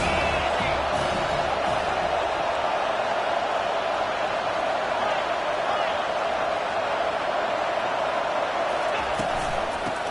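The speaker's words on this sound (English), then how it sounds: "This crowd trying to make life miserable for this offense." A stadium crowd at a Penn State college football game keeps up a dense, steady roar throughout, with commentary running over it.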